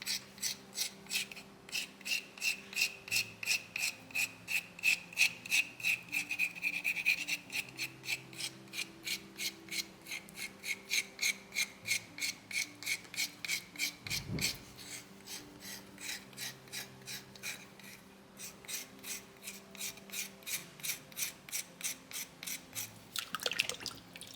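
A soapstone owl carving has its wings shaped and pointed with a file, giving steady rhythmic rasping strokes, close and fairly loud, continuing for the whole stretch with a brief pause midway.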